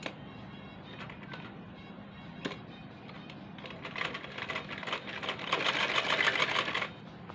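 Sewing machine stitching the seam of a simple kurti, a soft rapid mechanical whirr running in short bursts that speeds up into a denser, louder stretch near the end, alone without talk.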